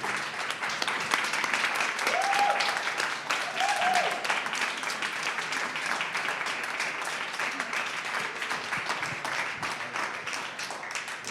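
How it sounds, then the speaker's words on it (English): Sustained applause rises from an audience at an Urban Indigenous self-determination symposium to honour the morning panels, dense clapping that stays strong and slowly thins, with a brief whoop early on. "give those gifts and a round of applause for our panels this morning"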